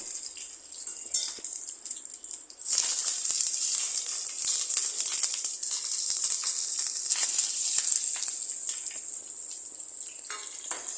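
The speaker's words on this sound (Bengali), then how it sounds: "তেলটা গরম হয়ে যাওয়ার পরে দেখো পাতুরিগুলো আমি ছেড়ে দিচ্ছি তেলের ভেতরে" Paneer paturi parcels lowered into hot oil set up a steady, close sizzle and crackle that jumps louder partway through and keeps hissing to the end.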